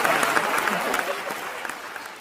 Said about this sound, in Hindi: ताली कमजोर हो रही है आपकी थोड़ी